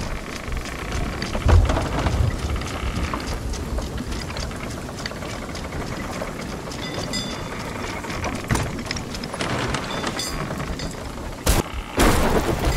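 Thunderstorm at sea in Sea of Thieves: steady heavy rain near a ship, with sharp lightning cracks and rumbling thunder bursting out at intervals and one loud close strike near the end.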